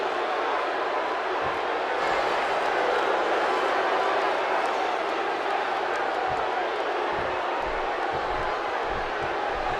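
A sold-out arena crowd in the WWE 2K16 wrestling game roars and cheers without a break, a dense wash of noise lasting the whole stretch.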